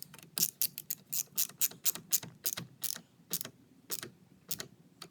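A ratchet wrench tightening the negative battery terminal clamp on a Hyundai Elantra, giving a string of quick, close mechanical clicks in irregular bursts with short gaps, no talking.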